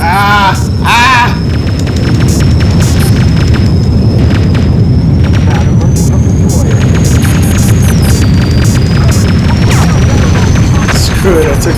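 Explosions rumble as an enemy is taken down in the PS1 game Independence Day, dense booming blasts and crashes over a loud continuous roar, with a high whine running through and brief shouting early on.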